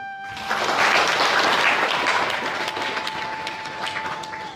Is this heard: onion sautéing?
no